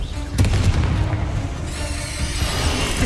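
The Confringo spell in Hogwarts Legacy lands as a sudden booming blast, followed by a crackling, fiery rumble and a bright fizzing tail that fades over a few seconds.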